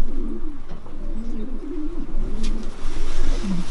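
Racing pigeons coo steadily in a pigeon loft, low throaty calls overlapping continuously at close range over a dense background hum.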